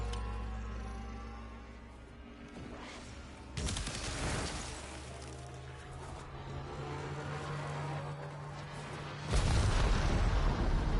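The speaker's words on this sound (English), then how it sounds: "That was a bigger explosion than I thought." Explosions and bursts of fire in the video game Warframe arrive as sudden loud blasts, one near the middle and a heavier one toward the end, each followed by a lingering rumble over a quieter background.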